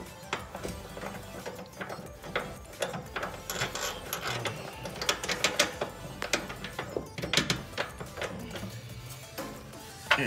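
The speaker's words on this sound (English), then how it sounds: "Here, you want the ratchet and wrench?" Ratchet wrench turning bolts while fitting a camber kit and spacers on an Acura RSX, irregular clicking and metallic ratcheting in bursts over a low background, moderately close.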